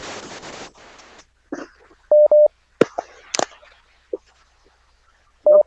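A radio call-in line connects a caller, with bursts of line hiss and noise, then paired electronic tones and clicks, a couple of sharp pops and another tone at the end, loud and close with no speech.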